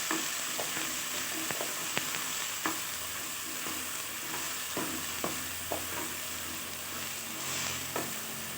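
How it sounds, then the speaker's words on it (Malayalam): Ground coconut stirred into choora (tuna) fish curry in a pan, a soft steady sizzle with repeated spoon scrapes and taps at an irregular rhythm, close and fairly quiet, no voices. "അതും കൂടെ ഇട്ട് നല്ലതുപോലെ ഒന്ന് ഇളക്കി കൊടുക്കണം."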